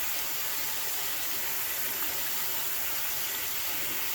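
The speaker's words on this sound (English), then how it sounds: "Let's rinse this off real good." Hot water runs steadily from a tap for rinsing during a manicure, a continuous close hiss with no voices.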